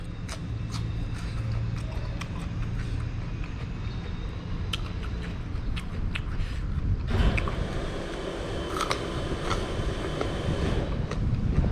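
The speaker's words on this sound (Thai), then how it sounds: "ลมพัดเย็นเย็นมานี่" A cool breeze blows steadily outdoors, heard as continuous loud wind rumble against the microphone with scattered clicks and knocks and faint background activity throughout.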